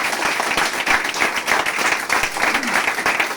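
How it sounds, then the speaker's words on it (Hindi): An audience bursts into continuous applause at an office gathering, dense clapping at an even level throughout with faint crowd noise beneath. "मैं चाहूंगा एक जोरदार तालियां होनी चाहिए"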